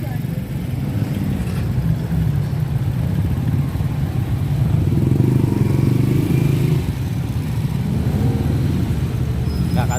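Motorcycles and cars crawl through traffic at a town fiesta grand parade in Rosales, Philippines, giving a continuous close engine rumble that swells in the middle. People talk at times over the noise.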